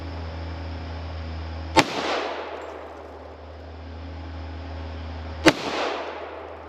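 Two sharp .45 caliber pistol shots fired into a tree from about four yards, each a loud crack followed by a brief rolling echo, spaced a few seconds apart outdoors.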